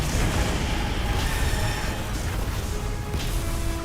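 Booming explosions from the Monster Hunter Wilds fight against Arch Tempered Rey Dau, loud and dense, with heavy low rumbles and blasts running through the whole stretch.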